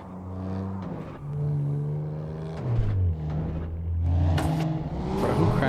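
A car engine in a video game revs and whirs, climbing and dropping in pitch through several gear shifts at a steady, moderately loud level.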